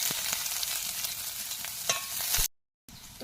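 Cumin seeds hit hot oil for a rohu fish curry with potato and pointed gourd, giving a close, bright crackling sizzle with sharp pops and stirring, then a brief dropout before the frying resumes.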